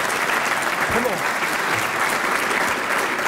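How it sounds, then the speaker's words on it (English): An audience at a NASAO 2018 event applauds Vic Bird, a dense, steady wash of clapping that holds at full strength throughout, with voices faintly mixed in. "So a round of applause, whether you really like him or not, for Vic Bird."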